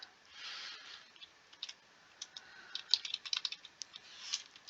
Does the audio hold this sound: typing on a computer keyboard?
yes